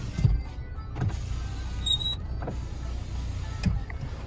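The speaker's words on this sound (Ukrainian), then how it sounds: "Склопідйомники працюють." Power windows on a Skoda Octavia Tour whirring up and down in several motor runs, with soft thumps as the glass stops, heard close inside the car without talking.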